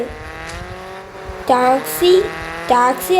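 Car engine in the Car Parking video game, a steady hum broken by short, rising revs in quick bursts that sound close and fairly loud.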